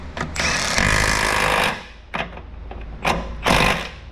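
On a 4.6 SOHC Ford Mustang, an impact wrench tightens a factory exhaust bolt for a stainless steel X-pipe: a loud, close hammering burst of over a second, followed by several shorter rattling bursts.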